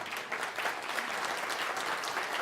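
Steady applause from an audience, continuous clapping at a moderate distance, without pause.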